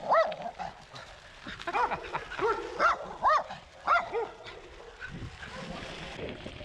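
A dog barking repeatedly while chasing a cyclist, a series of sharp, mid-distance barks and yips in uneven bursts, with a voice and wind noise underneath.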